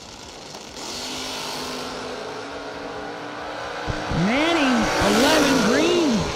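Drag race cars, among them an alcohol-injected Opel GT on nitrous, stage and launch: a steady engine drone, then rising and falling revs swelling louder near the end, with an announcer talking over it.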